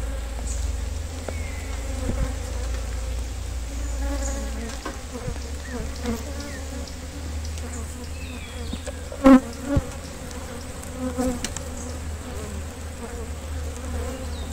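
Honey bees buzz steadily around beehives and nucleus colonies in an apiary, a dense continuous insect hum with a few louder close passes near the middle and no talking.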